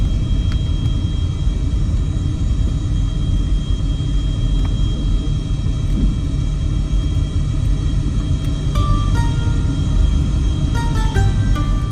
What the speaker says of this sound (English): pretty much all you can hear then is the noise of the wheels on the runway